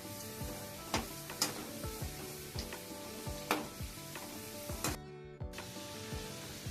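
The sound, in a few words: gavvalu dough shells frying in oil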